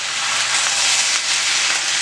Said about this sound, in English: So now I'm going to add my shrimp to that.